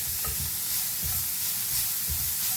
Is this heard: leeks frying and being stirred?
yes